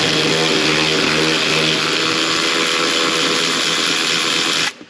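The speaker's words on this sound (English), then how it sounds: "so I'm just gonna try to break them loose with the ratchet." A tool works loose the bolts holding a Jeep JL/JT seat, giving a loud, continuous mechanical whir that runs without a break and stops sharply at the end.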